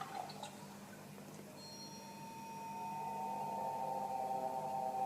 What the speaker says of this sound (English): Got a drip coffee machine.